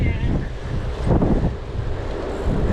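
Strong wind buffets the microphone while bikepacking on Hadrian's Cycleway, a loud continuous roar with surging gusts and no clear speech.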